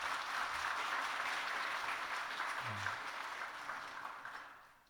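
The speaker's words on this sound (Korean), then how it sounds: "박수로 한번 격려하겠습니다" Congregation applause during a Sunday church service welcoming a visiting missionary, a soft, fairly distant wash of many hands clapping that holds steady and then gradually fades out over five seconds.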